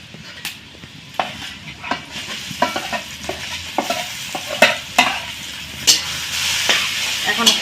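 Grated potatoes, cumin, turmeric and chili powder are stirred in a frying pan for a bread chop filling, making rhythmic scraping strokes and soft knocks over a low, continuous sizzle.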